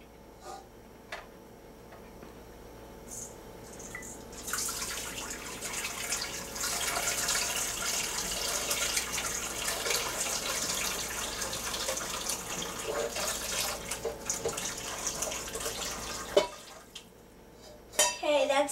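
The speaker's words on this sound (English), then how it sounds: "I'm gonna pour my milk mixture into the bottom of my bowl" Milk mixture poured into a mixing bowl fitted with a dough hook while making bread: a steady, splashy liquid pour runs for about twelve seconds, then stops, followed by a few light clinks of kitchenware.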